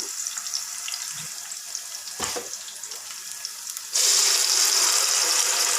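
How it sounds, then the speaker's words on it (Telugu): Onions, cinnamon, cloves and green chillies fry in oil for a meal maker pulao, a steady close sizzle that jumps to a louder, brighter hiss near the end, with one brief clatter partway through. "ఆయిల్లో ఉల్లిపాయలు చెక్క లవంగాలు పచ్చిమిర్చి వేసాను పులావ్ కోసం బాగా వేగనివ్వాలి"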